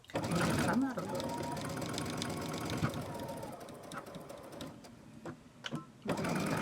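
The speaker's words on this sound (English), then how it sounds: "Go ahead and backstitch." Sewing machine backstitching a clutch wallet, a close, busy mechanical whir with short stops and restarts, heard under a person talking.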